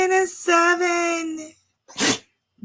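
A single sharp sneeze bursts out near the end, following a sustained, strongly pitched voiced sound that may be a person talking or calling out.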